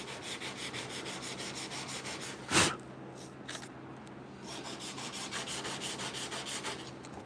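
A soft pad is rubbed by hand over guide coat on a 1968 C10 door panel, giving a steady, faint back-and-forth scrubbing that pauses briefly around a sharp scrape midway.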